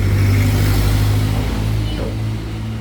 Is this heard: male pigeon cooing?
no